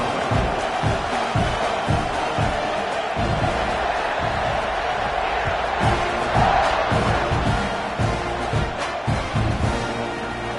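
A college football stadium crowd cheers just before kickoff, a loud, dense and continuous roar that swells and holds steady throughout.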